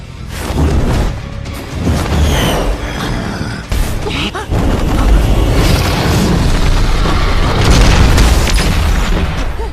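An energy explosion bursts out of temple ruins as a deep, sustained booming roar with crackling whooshes and rumbling impacts, loud and continuous throughout.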